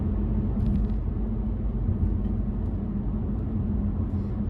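A Nissan Juke driving on an autumn country road, heard from inside as a steady low rumble of engine and tyres, continuous and even.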